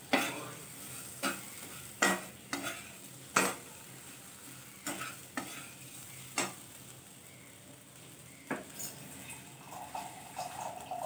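A spoon scrapes and taps rhythmically against a pan while vegetable sevai upma is stirred, with soft sizzling underneath. The strokes are close and fairly quiet, and no one speaks.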